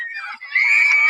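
A person screams in a high, sustained cry that starts strained, dips briefly, then swells into a loud, steady, piercing wail lasting about a second.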